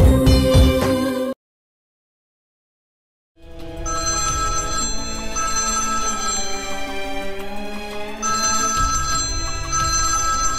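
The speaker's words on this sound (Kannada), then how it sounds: "ಇಷ್ಟೊತ್ತಲ್ಲಿ ಭೂಮಿ ಯಾಕೆ ಫೋನ್ ಮಾಡ್ತಿದ್ದಾಳೆ?" A mobile phone rings with an incoming call during a Kannada TV serial scene. The melodic ringtone plays loudly, cuts out for about two seconds, then resumes steadily with no talking over it.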